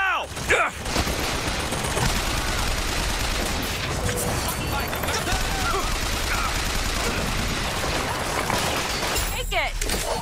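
A turret in BioShock Infinite fires sustained rapid bursts of gunfire for several seconds, loud and dense with crashing impacts, while people talk over the shooting.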